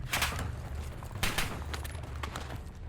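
Scattered gunfire from the Warzone video game cracks in short bursts, a few volleys spread across about three seconds, moderately loud against a low background rumble.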